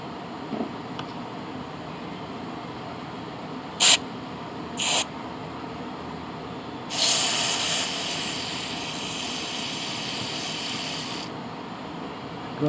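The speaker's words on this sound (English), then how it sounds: "we'll shoot a little carb cleaner" Carb cleaner hisses from an aerosol can into the carburetor of a Homelite AP125 water pump: two short bursts, then a longer close, loud spray lasting several seconds.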